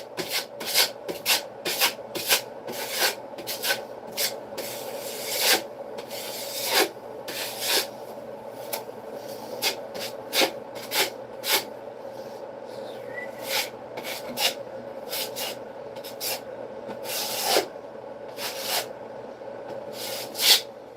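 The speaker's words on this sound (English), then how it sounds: "skim coat over that." Drywall mud scraped thin across a wall in a skim coat while repairing water damage: repeated close, rasping knife strokes in an uneven rhythm, with short pauses between passes.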